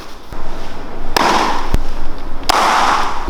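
A baseball smacks into a Wilson A1500 glove with sharp, loud pops, three crisp catches spaced about a second apart, each followed by a short rustle of leather.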